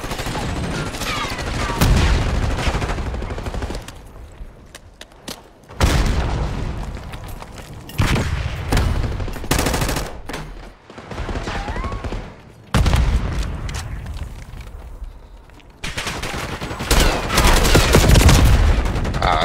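Bursts of gunfire from a Call of Duty match, including enemy sniper shots, with loud booming volleys and rapid fire coming in repeated clusters across the stretch, separated by brief quieter gaps.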